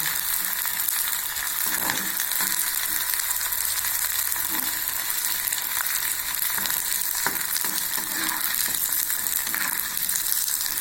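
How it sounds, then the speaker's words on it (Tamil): Dried aval (flattened rice) vathal crisps frying in hot oil give a loud, continuous bubbling sizzle with occasional stirring clatter, close and unbroken for about ten seconds, with no voices. "எல்லா வத்தலையும் இப்போ வறுத்துடலாங்க. சூப்பராக பொரியுது பாருங்கள் நல்லா."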